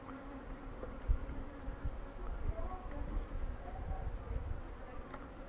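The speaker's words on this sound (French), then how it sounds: "Bonne activité des abeilles." Honeybees buzzing around hives in an apiary, a steady droning hum with individual bees passing close, and a faint voice occasionally underneath.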